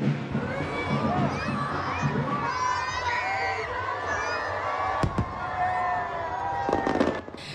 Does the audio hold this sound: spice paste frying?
no